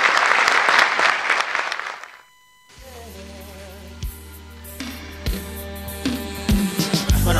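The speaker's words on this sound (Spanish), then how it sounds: "Por eso pido un fuerte aplauso" A crowd applauds the governor at a public event in Córdoba, with loud, full clapping for about two seconds that cuts off abruptly into silence, followed by a sustained tonal sound with a few sharp knocks.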